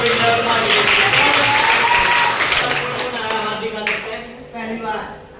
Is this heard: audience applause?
yes